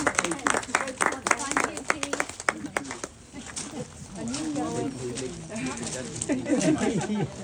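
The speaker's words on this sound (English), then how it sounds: "Should we give him a round of applause?" A small gathering at a Meals from Marlow charity event marking its 200,000th meal gives a short burst of scattered clapping, followed by people talking.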